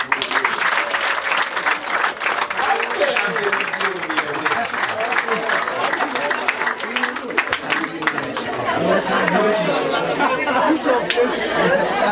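Wedding guests clap their hands loudly and steadily throughout, a dense crowd applause filling the room with voices chattering underneath.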